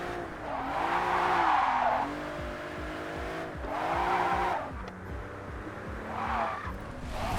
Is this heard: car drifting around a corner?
yes